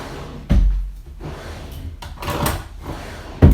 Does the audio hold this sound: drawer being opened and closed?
yes